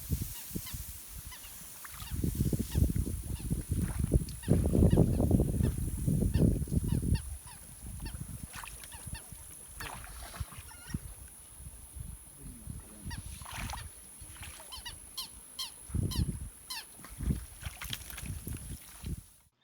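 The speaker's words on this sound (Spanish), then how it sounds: "Se escuchan un montón de pájaros." Many birds, including honking goose-like and duck-like calls, clamor in repeated bursts, loudest early on, with scattered sharper chirps and faint background noise between calls.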